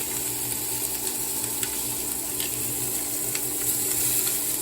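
Meat sizzling steadily in a hot pan, a dense continuous frying hiss with occasional faint clinks, close and fairly loud with no talking.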